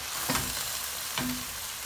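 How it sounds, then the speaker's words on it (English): Steady sizzling as pasta and starchy pasta water go into a frying pan for carbonara, with two brief bursts of louder hissing and clinking as something hits the hot pan. "off goes the pasta, and it's going to sizzle"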